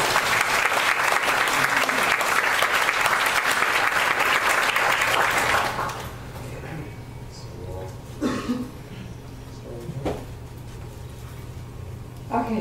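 Audience applause fills a lecture hall as a printmaking artist is welcomed, loud and sustained for about six seconds before dying away, followed by scattered coughs and throat clearing in the quieting room.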